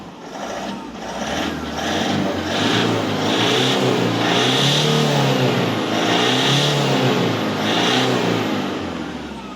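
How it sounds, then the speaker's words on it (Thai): A 2013 Toyota Vigo Champ pickup truck engine revs hard and loud, the roar rising and falling in several long surges with a steady rumble underneath, close by. "เดี๋ยวผมจะเร่งเครื่องให้ดูนะครับ"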